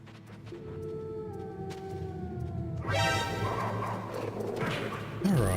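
Dogs in Metal Gear Solid howl in long, drawn-out, wavering tones that overlap one another, and a louder burst of rough noise takes over partway through.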